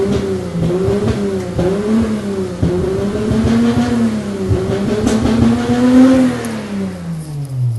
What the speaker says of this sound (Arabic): طبعا بوب كورن بسيط بالنسبة لمحرك 3600